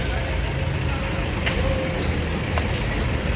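An intercity bus on a road in Palembang rumbles past with a steady, heavy engine drone close by, a low roar holding throughout amid light street noise.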